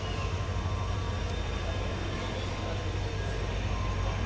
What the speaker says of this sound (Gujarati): ગાંધીગ્રામથી અમારી ટ્રેન ઉપડી ગઈ છે બોટાદ જવા માટે.